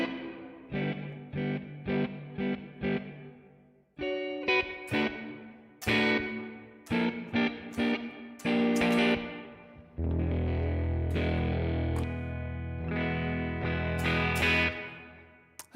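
Electric guitar run through the GhostChorus iOS chorus app with reverb, loud strummed chords in short choppy bursts, then a long sustained ringing chord, alone with no talk.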